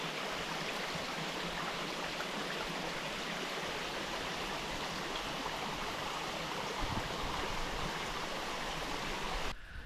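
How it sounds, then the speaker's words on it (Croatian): A river flows far below a mountain peak, a steady, unbroken rush of water that holds the same level throughout. "dole ima jedna rijeka"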